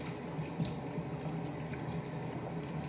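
Tap water runs steadily into a sink during handwashing, a constant, moderately quiet hiss and splash with no talking.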